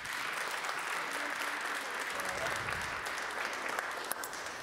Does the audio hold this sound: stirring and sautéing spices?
no